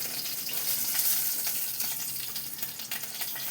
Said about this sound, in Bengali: আমার এই যে মাছ ভাজা হয়ে গেছে।